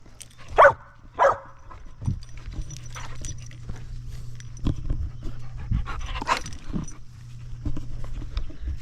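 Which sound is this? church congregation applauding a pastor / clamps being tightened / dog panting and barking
dog panting and barking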